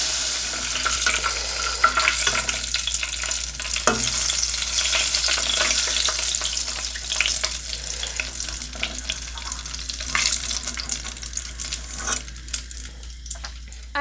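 Conch pieces frying in a pot of hot oil for Bahamian cracked conch, giving a steady, close sizzle with crackling pops and an occasional stir or clink throughout.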